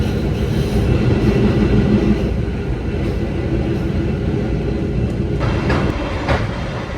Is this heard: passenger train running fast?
yes